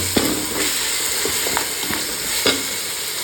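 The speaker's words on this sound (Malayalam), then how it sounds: "ഇതിലേക്ക് ഒരു അര സ്പൂൺ ഉപ്പ് ചേർത്ത് അതുപോലെ തന്നെ രണ്ട് തക്കാളി ചോപ്പ് ചെയ്ത് കഴിഞ്ഞത് ചേർത്ത് കൊടുക്കണം നമ്മൾ നല്ലപോലെ തന്നെ വഴറ്റി" Chopped tomatoes and salt sautéed in a pan for dal fry make a continuous bright sizzle, broken by several distinct scrapes and clinks of a spoon stirring, close and moderately loud.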